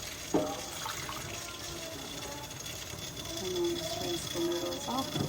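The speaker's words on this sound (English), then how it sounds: "I'm just going to rinse it with some cold water" Cold tap water runs into a pot as noodles are rinsed, a steady, low splashing flow throughout, with a few faint clinks and a speaking voice over it.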